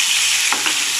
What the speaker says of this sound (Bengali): আরেক সাইড আমি ভেজে নিচ্ছি।